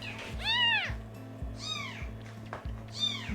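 A tiny newborn kitten weighing about 70 grams meows three times in high, thin, rising-and-falling cries, close and clear, over a steady low mechanical hum.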